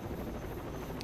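A helicopter in the video game Rainbow Six Vegas, a close, steady rotor thrum with a dense low-end rumble throughout a brief stretch.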